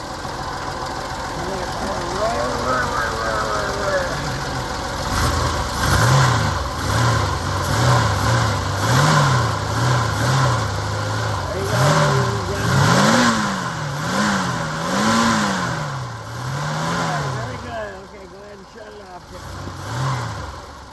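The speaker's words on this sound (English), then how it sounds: "my son's gonna get the car and give it a few revs so you can hear the car roar" A 1951 Hudson Hornet convertible's engine revs repeatedly in loud, rising and falling surges, idling between pushes, with a low rumbling tone throughout.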